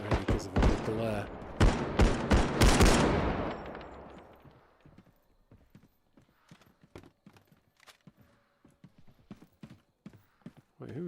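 Sharp gunshots ring out in the realistic shooter BodyCam, starting as a loud, dense volley of cracks over talk and fading into scattered, fainter shots with quieter voices underneath.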